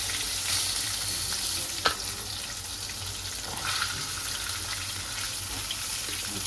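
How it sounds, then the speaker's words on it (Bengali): Pangas fish lightly frying in oil, a soft steady sizzle with a couple of brief knocks or clatters near the pan, fairly quiet overall. "মাছটা বেশি ভাজলে ভালো লাগে না, আমি হালকা করে ভেজে নিচ্ছি।"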